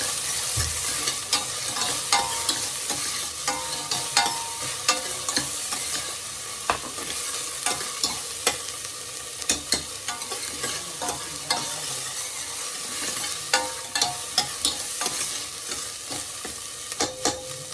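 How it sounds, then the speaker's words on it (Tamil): Banana stem soup ingredients, with tomato and onion, are stirred and sautéed in a pan, giving a steady close sizzle with frequent scraping clicks of the spoon throughout. "கொஞ்சம் நல்லா வதக்கலாம்."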